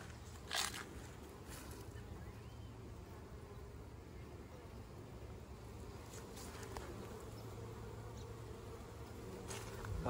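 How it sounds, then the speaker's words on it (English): Honey bees buzzing around a hive in a damp bee yard as pollen comes in: a continuous, faint hum of wings with brief louder buzzes as individual bees pass close by. "Pollen coming in."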